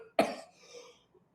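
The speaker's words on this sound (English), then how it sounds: "excuse me, a little bit of a cough today" A single sharp cough at close range opens the moment, followed by a short gap and the start of another cough or throat-clearing burst at the end.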